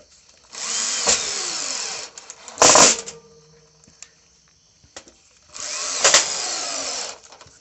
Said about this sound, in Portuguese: Parafusar.